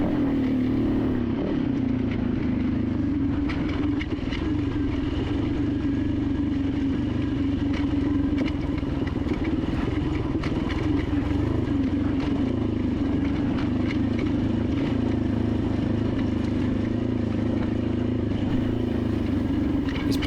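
Dirt bike on a rocky, rutted trail in the Laughlin hills, its engine droning steadily at close range with faint clatter from the rough ground, unbroken throughout.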